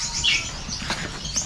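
Small pet birds give thin, high chirps close by while they are being fitted with leg rings, with soft rustling and a brief flutter underneath.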